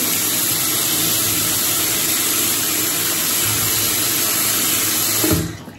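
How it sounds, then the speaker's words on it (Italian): Tap water runs steadily into a bathroom sink during an evening skincare routine. It makes a loud, close, even rush that ends abruptly when the tap is turned off near the end. "Chiudo per non sprecare troppa acqua."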